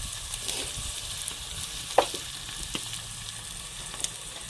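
Spices and fresh mint roast in a masala for a Kolhapuri-style goat dish, a faint steady sizzle with a few soft stirring knocks against the pan.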